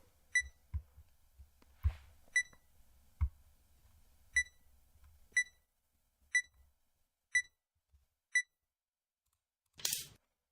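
Short electronic beeps tick off at a steady pace in an online shogi game, around nine sharp bleeps with soft clicks between them, ending in a brief burst of noise.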